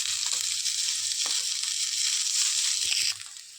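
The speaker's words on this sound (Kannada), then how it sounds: "ಆನಿಯನ್ ಸ್ವಲ್ಪ ರೋಸ್ಟ್ ಆಗೋದು ಬಿಡಿ." Onion roasting in oil in a pan for a green gobi salad, a close, steady bright sizzle with occasional stirring scrapes, dropping in level just before the end.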